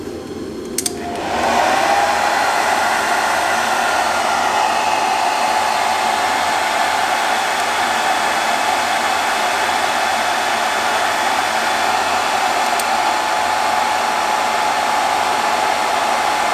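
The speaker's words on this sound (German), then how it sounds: "tue ich jetzt mal die Umgebungstemperatur etwas erwärmen mit einem ganz normalen Föhn" An ordinary hair dryer warms the interior temperature sensor of a classic Mercedes SL R107. A click starts a steady, loud whooshing whir that holds unchanged to the end, with no talking.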